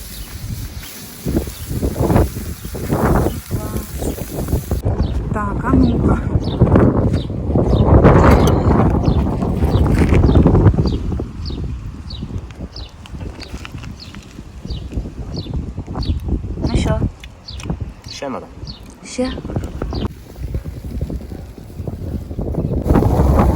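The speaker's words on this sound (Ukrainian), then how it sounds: "Сьогодні такий вітер." Strong outdoor wind gusts roar and buffet the microphone in a rural village, continuous and loud, with clattering and rhythmic knocks underneath and faint voices now and then.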